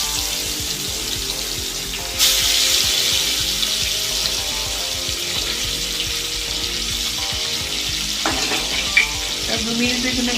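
A second batch of Bhola fish sizzles loudly in hot oil, the crackle jumping up as the pieces go in, with scattered utensil knocks and scrapes near the end.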